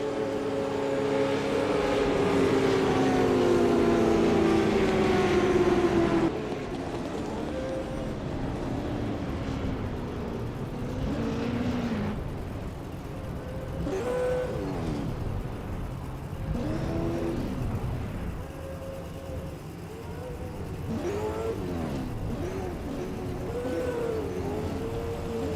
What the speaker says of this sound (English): Had a car come down pit lane for pit lane start.